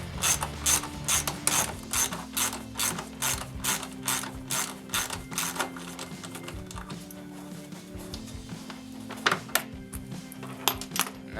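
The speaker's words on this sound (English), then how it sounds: "With a 10mm socket, we remove this bolt right here." A ratchet with a 10mm socket works a bolt loose while installing a cold air intake on a 2006-2010 Dodge Charger 3.5L, giving a rapid, steady series of sharp clicking pawl strokes, close and clear, pausing briefly midway before resuming.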